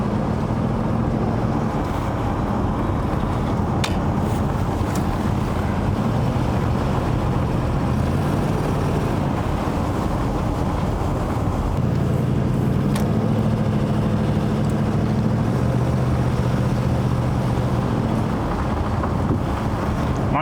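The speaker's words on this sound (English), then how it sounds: "Oh yeah, we definitely got some exhaust leaks." A 1984 Monte Carlo SS with leaking exhaust runs steadily through the whole stretch, a low continuous engine drone with a rougher, throbbing patch near the end, close and loud with no talking.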